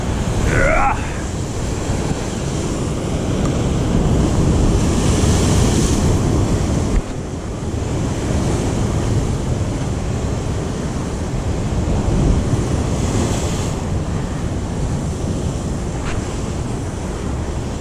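Large ocean waves surging and crashing in a constant, loud roar, with heavy wind buffeting the microphone and a brief voice-like squeal near the start.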